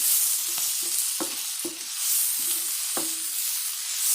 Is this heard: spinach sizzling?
yes